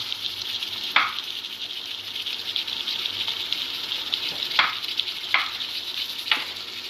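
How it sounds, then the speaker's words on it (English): Steady sizzle of potatoes frying in a pan for aloo gobi, with a few sharp crackles and pops standing out, close and moderately loud, no voices. "can hear that sizzling now"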